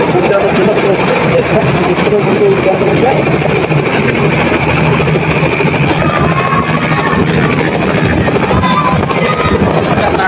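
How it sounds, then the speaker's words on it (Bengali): Helicopter engine idling before takeoff in a village field in Gopalganj, Bangladesh, a loud, steady whine and low rumble running continuously throughout, with crowd noise mixed in. "এখন সবাইকে নিরাপদ দূরত্বে সরিয়ে দিয়ে হেলিকপ্টার উড্ডয়নের জন্য"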